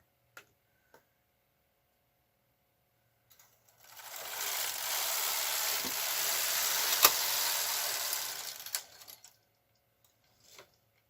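A knitting machine carriage is pushed across a row, making a continuous rasping, clattering whir of about five seconds that rises and fades, with a few isolated clicks before and after.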